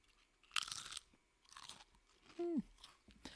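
Spuddies potato chips crunch loudly and close in a few separate bites, with brittle bursts spread apart, alongside a brief squeaky vocal sound in between.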